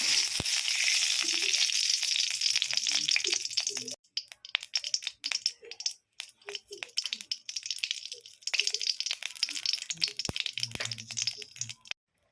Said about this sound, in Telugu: నెయ్యిలో డ్రై నట్స్ వేయించుకుందాం